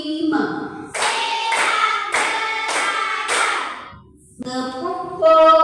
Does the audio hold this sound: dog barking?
no